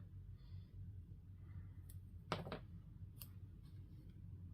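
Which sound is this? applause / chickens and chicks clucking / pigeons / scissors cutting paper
scissors cutting paper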